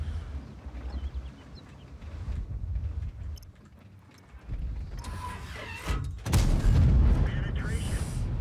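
Tank cannon fire in a video game: a dull rumble of engine and battle noise, then a few sharp, heavy booms near the end with mechanical clanks, while someone talks.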